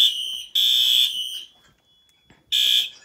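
Old fire alarm system sounding with a smoke detector still active, loud shrill electronic tone in bursts: a long blast, a second blast, a pause with a thin lingering tone, then a third blast.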